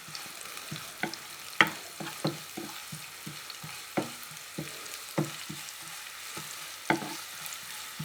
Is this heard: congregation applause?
no